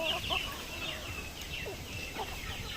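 Native chickens cluck and call in a farmyard, with several short, sharp clucks scattered over a low background rumble, fairly close and moderately loud.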